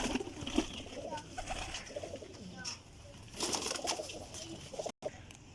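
Pigeons at a loft in Sarai Alamgir, Jhelum, make soft, faint cooing and fluttering close by. Someone talks over them, and there are a few small splashy knocks.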